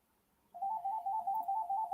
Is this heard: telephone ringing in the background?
yes